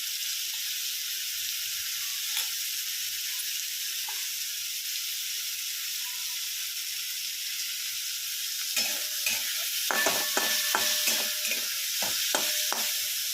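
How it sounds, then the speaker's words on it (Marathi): Tomatoes with coriander sautéing in a pan, a steady hissing sizzle that turns busier near the end with a burst of spoon scrapes and metallic clinks, close, no talking. "टॉमॅटोलाही थोडंसं परतून घेऊया त्यामध्ये थोडीशी कोथिंबीर टाकूया"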